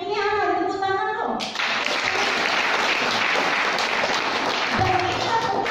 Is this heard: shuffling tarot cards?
no